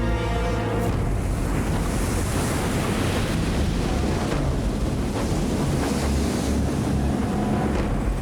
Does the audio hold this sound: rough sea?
yes